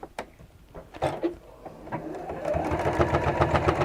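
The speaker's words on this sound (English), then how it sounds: "I am going to top stitch it, so I'm going to fold it so that that seam is right on the edge" A sewing machine top stitching a folded seam at a 2.8 stitch length, without a walking foot: a few faint starts and stops, then a steady, dense mechanical whirr that builds louder and runs on close by.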